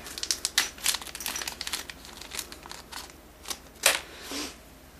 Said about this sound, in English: Let me just take one out of the bag.